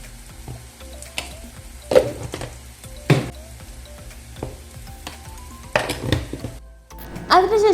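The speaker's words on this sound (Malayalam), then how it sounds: "പൊടികളൊക്കെ വഴറ്റി നല്ലപോലെ പൊടികളൊക്കെ ഒന്ന് മൂപ്പിച്ചെടുക്കുന്നുണ്ട്" Spice powders sautéing in a pan for a roast, a soft sizzle under repeated stirring scrapes and metallic clinks of a spoon against the pan, with brief bursts of louder clatter.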